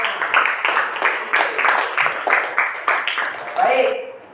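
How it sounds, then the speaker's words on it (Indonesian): Classroom students clapping together in a rhythmic, patterned clap, about a dozen evenly spaced bursts of hands in a lively, close-up room with some voices. "Kasih tepuk tangan dulu."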